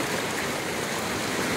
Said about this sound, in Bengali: বৃষ্টি একটু কমে আসে, কিন্তু পানি এখনো কমে নেই।